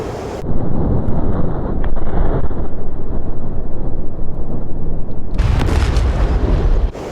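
Bomb blast in the DCS flight simulator during an east-to-west bomb run in a 1991 Gulf War Kuwait liberation mission: a loud roaring rush like wind, then a heavy broadband boom that swells near the end.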